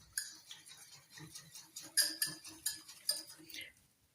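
A spoon stirs chicken marinade of lemon juice and vinegar in a bowl, giving a string of light metallic clinks and scrapes at an uneven, fairly quick rhythm, close by and soft.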